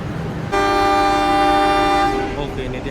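The Sancaka Utara passenger train sounds a long, steady, loud horn blast that holds for about a second and a half, then cuts off, leaving a lower rumble of the train running at speed.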